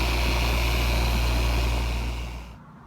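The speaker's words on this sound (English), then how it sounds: "lift the weight of the polisher up a little bit and just barely graze" Polisher running on car paint with a heavy cutting compound, a loud, steady motor whine with a low droning hum that fades and cuts off near the end.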